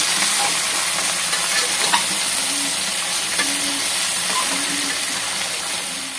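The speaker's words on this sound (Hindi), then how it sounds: "धीमी आंच पे इसको हम ऐसे भूंज लेंगे, तो भूनेंगे हम चिकन को अच्छी तरह से ऐसे" Chicken with garlic cloves being slow-roasted in a pan over a low flame for a Bihari-style chicken curry gives a steady, close sizzle and hiss, with light scraping from occasional stirring throughout.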